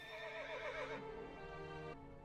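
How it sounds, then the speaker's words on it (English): A stag in World of Warcraft: Legion Remix lets out a horse-like neigh, a wavering, fairly quiet whinny that holds for about two seconds and then tapers, with no voices over it. "It neighs? That's not what stags do"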